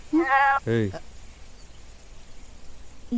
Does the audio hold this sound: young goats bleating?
yes